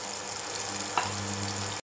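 Chopped onion fries in a pan with cumin seeds and dried red chillies, giving a steady loud sizzle that holds evenly before cutting off abruptly.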